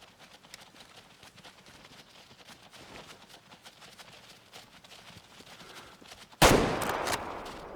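A single loud rifle shot rings out at a whitetail deer in the hunting game Way of the Hunter, a sharp blast with a short rumbling tail after a long stretch of faint ambient rustling.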